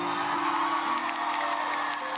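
A studio audience on a Filipino variety game show hosted by Willie shouts and whoops, a loud, dense crowd roar that holds steady for a couple of seconds with no other sound over it.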